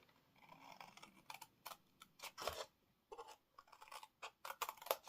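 Scissors snipping through papercraft flaps of a hinged gift box, cutting down to a score line: a run of short, crisp, quiet cuts in uneven bursts, close by with no talk.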